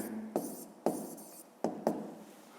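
Pen scratching on paper while a maths answer is written down, four short bursts of scribbling separated by brief pauses, close and quiet, with no talk.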